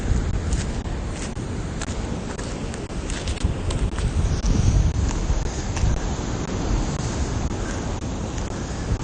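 Ocean waves and wind on a coast, a steady loud rush of surf and wind buffeting the microphone throughout with occasional gusting crackles.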